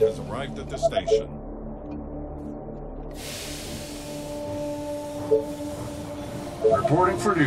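A train pulls into a station in the strategy game They Are Billions, sounding as a steady mechanical hiss and rumble with tonal hums. Brief sharp clanks come before and after it, and there is no talk.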